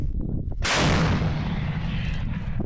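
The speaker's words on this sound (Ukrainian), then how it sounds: "постріли." A single heavy tank gun blast booms out, fired at a target over 7 kilometres away, followed by a long rumbling roll that fades slowly.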